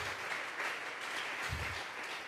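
A church congregation at a Bible study gives steady, even applause to God, moderately loud, with a brief low thump partway through.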